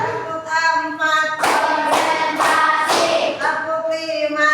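Children and a teacher in an elementary school classroom clap hands in a counting game, with three sharp, loud claps in steady rhythm between stretches of singing voices.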